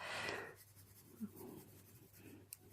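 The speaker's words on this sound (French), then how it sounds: "On fait bien attention de ne pas colorier sur les cheveux ou les endroits qui ne sont pas pour." Polychromos colored pencil strokes coloring a face on paper, a faint, soft scratching that swells in a few short bursts at close range, quiet throughout.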